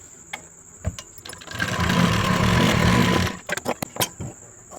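A domestic sewing machine runs a steady stitch along a blouse seam for about two seconds, loud and close, framed by small clicks and fabric handling before and after, with no speech.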